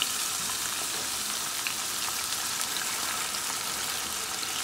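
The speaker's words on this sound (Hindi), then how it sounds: "बस अब मैं इसको थोड़ा सा फ्राई करूंगी 5 से 10 मिनट के लिए।" Kebab mince frying in a pan, a steady soft sizzle and crackle that holds evenly throughout with no talking.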